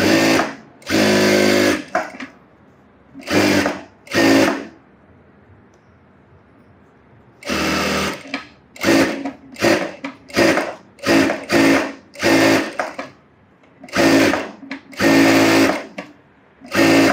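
A sewing machine stitches the side piece of an umbrella frock in many loud, close bursts of whirring, some long and some short, with quiet pauses between them.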